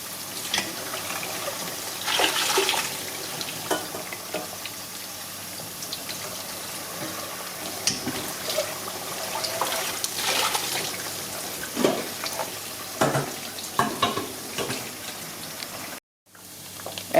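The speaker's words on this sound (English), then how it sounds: "we're stirring the pot a little more and just trying to make sure there's nothing stuck to the bottom." Coconut oil boils in a pot while being stirred, giving a continuous watery bubbling and sloshing with scattered clinks and scrapes, fairly close and unaccompanied by talk, ending with a brief cut to silence.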